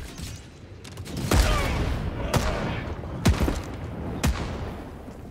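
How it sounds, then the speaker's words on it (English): Mortar fire and explosions in the video game Helldivers 2: several sharp booming impacts land one after another over a rumbling battlefield bed, fairly loud and close. "Mortars are a liability,"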